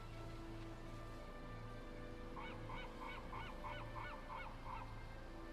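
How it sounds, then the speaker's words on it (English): Seagulls in the video game Greedfall, near a seaside cave, give a quick run of repeated, squawking calls at mid-distance over a steady low ambient hum. "Even hear the seagulls."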